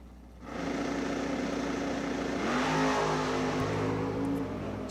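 Drag racing truck and Copo car launching at a bottom bulb drag strip event: a loud, sustained engine roar builds and holds steady with a rising drone over the few seconds.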